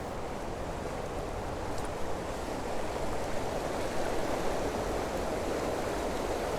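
Steady rushing water of a river flowing through a city park, a continuous broadband wash that stays even and moderately loud throughout with no talking.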